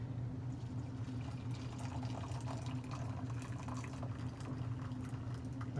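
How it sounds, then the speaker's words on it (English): Freshly boiled water pours steadily from a kettle into a Mr Beer home-brew container for an American porter, a constant close liquid rush with no talk. "So I got my kettle, just boiled it up. Just going to pour it in here."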